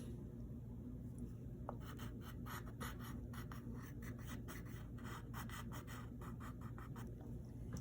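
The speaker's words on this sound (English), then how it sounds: "Then right here you draw the base." Pencil drawing on paper, a run of quick scratchy strokes and short scribbles over a steady background hum, close and faint.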